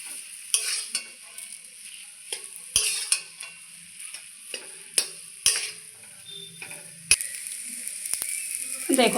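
Spoon stirring a potato and flour mixture with salt in a pan, giving a series of close scraping and tapping strokes with a faint sizzle between them, no voices.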